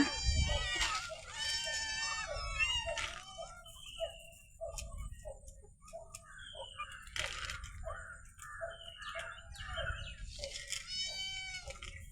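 Kittens meow repeatedly in short, high, close mews, several voices overlapping in a steady stream with a few brief pauses.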